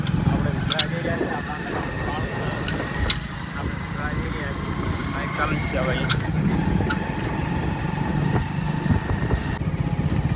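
A motorcycle runs along a potholed village road with rain-filled puddles, its engine a continuous drone under a person talking.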